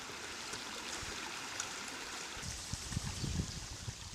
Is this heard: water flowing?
yes